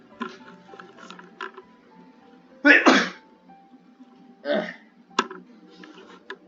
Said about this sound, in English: Didn't want to sneeze into the microphone.